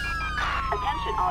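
Police car sirens in the LSPDFR police game, a steady wailing tone sweeping continuously under engine rumble and traffic noise throughout.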